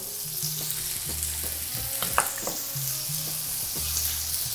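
Steaks frying in a hot pan after butter is added, with a loud continuous sizzle broken by repeated scraping and clattering pan sounds up close, with no one talking.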